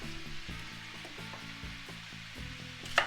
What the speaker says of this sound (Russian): минут 10, жарим картофель без крышки